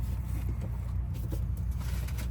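A 2017 Aspect motorhome's engine idles with the parking brake set, a quiet, steady low drone that holds even and unbroken throughout.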